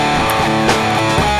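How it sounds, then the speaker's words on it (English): A guitar played with heavy dirt through the Airwindows Distortion plugin, giving a dense, loud, saturated buzzing tone with a few brief picked accents, no voices. "We'll bring in a dirt guitar."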